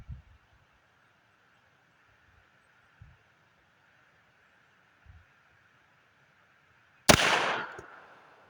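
Single loud, close gunshot from a Heritage Buffalo Bill revolver at an outdoor range. It follows quiet outdoor ambience with a few faint thumps, and a short decaying echo trails the shot.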